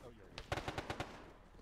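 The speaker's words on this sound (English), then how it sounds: "Yeah, all that gunfire." A rapid burst of about six sharp gunshots in quick succession in a video game, fairly loud, with faint background noise and no voices over the shots.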